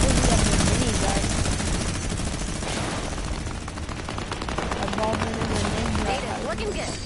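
A minigun fires in a Fortnite Save the World style video game, a dense, continuous rattle of rapid shots, loud and close, with a player talking over it.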